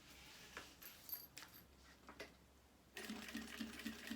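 Sewing machine stitching a backstitch for a fabric laptop sleeve, starting with scattered handling clicks and soft thumps, then a rapid, even run of stitching near the end, close and clear with no talk.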